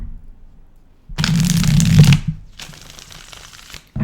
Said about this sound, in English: So this one shuffles a little funky.